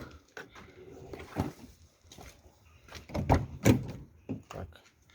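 A door is opened nearby with a run of knocks, clunks and rattles in an uneven rhythm, the loudest thuds coming near the end, before new replacement support mounts are taken out.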